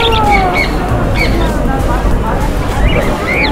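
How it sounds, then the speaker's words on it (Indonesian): Birds squawk at a street market in South Korea, sharp calls rising above a dense, loud crowd hubbub with talking throughout. "burung falak juga ada."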